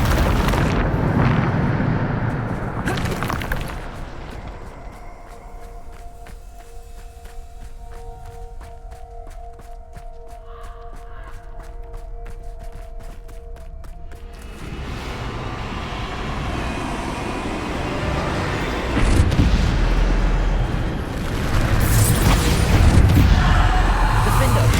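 A Bombarda spell blasts in Hogwarts Legacy during a trial in a ruined chamber, with heavy rumbling bursts at the start, a quieter stretch of rattling debris and tones, then renewed loud explosive roars, with speech in places.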